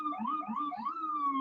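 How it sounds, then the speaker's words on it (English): Police sirens wail outside, a loud rising and falling electronic tone that sweeps up repeatedly and then holds a long steady pitch, heard alone with no talking. "Every stream, you're gonna hear the sirens."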